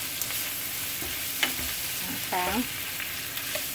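Onions sautéing in a home-kitchen pan for a shrimp and grits dish give a steady, close sizzle with a few scraping stirs, and a single brief spoken word cuts in partway.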